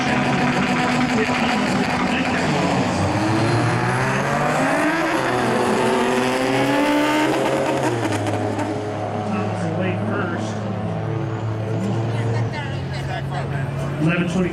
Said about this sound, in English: Tyler Steichman, next up, Maverick side of the racetrack in the Buick Grand National.